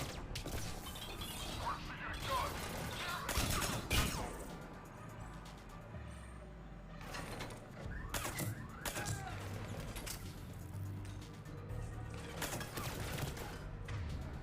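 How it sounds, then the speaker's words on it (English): Silenced pistol fire in the video game Mass Effect 3 comes as scattered sharp, muffled bursts amid other game combat noise, with a voice talking at times. "I have a silenced fucking pistol."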